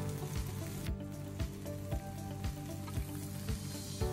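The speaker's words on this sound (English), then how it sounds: "Now is the time to put your vegetable into the hot pan" Vegetables stir-frying in a hot pan, a low, even sizzle with regular soft thumps of tossing or stirring about every half second, quiet and close, with no voices.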